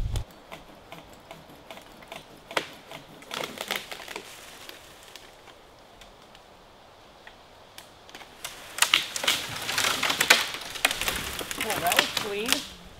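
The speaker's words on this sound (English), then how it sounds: "he's got to cut a couple branches off here to make a shooting lane." Branches being cut from a tree beside a hunting stand to clear a shooting lane, heard as scattered crisp snipping and clicking cuts that grow busier and louder toward the end, with outdoor background and brief voices.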